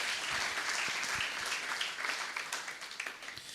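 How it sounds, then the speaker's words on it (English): Steady applause from a hall of engineering students welcoming first-year B.Tech freshers at an induction and orientation program, a dense wash of many hands clapping that fades slightly toward the end. "let us welcome by the freshers by a good applause"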